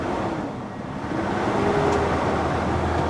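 A parked truck's engine idles and misfires, a steady low rumble with a faint uneven roughness heard up close, no talking.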